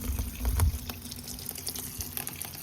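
A solar water pump pours into a roughly 35-gallon tub, producing a steady splashing gurgle of falling water with a brief louder surge near the start, close by.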